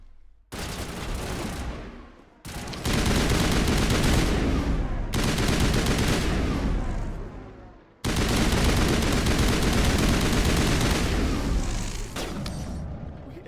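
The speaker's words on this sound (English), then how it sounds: "That sniper shot got me." Loud sniper rifle shots and heavy gunfire in the sci-fi shooter Mass Effect, several booming bursts separated by short pauses, close and dense, with no speech over them.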